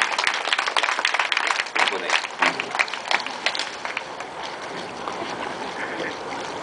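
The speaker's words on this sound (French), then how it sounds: "On peut les applaudir, ils l'ont quand même bien mérité." An audience claps after an act at a seal show, a burst of scattered applause that peaks early and thins out over several seconds, with a voice talking over parts of it.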